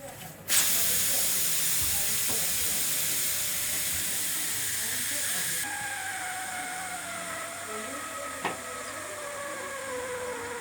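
A pressure cooker cooking mutton vents steam in a strong, steady hiss that thins partway through, with a couple of faint clicks.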